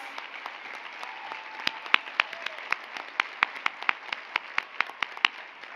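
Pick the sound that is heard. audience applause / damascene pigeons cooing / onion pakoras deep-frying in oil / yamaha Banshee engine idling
audience applause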